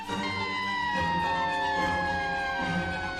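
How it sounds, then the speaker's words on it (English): A police siren wails loudly and continuously, its sweeping tone gliding slowly downward over a low rumble of traffic. "flashing lights, sirens wailing"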